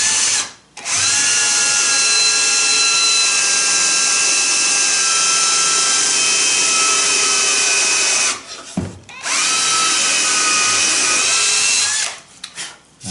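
A power drill runs at a high steady whine through wood in long bursts, boring holes at 45 degrees, with short pauses and restarts between holes.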